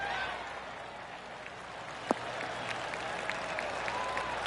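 Polite golf clap from a gallery crowd on the green in PGA Tour 2K23, a soft, even patter of scattered claps at moderate distance with a sharp click near the middle.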